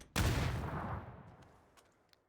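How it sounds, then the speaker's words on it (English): A grenade goes off in a PUBG pro scrim match as one loud, sudden blast that booms and then rumbles away over about two seconds, with faint small clicks near the end. "That's a powerful nade."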